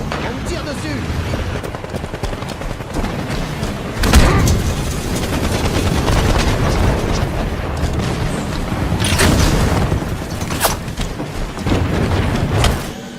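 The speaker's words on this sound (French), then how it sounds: "On me tire dessus!" An online military shooter video game plays heavy gunfire and booming explosions, dense and loud throughout, with in-game voices calling out over the constant battle noise.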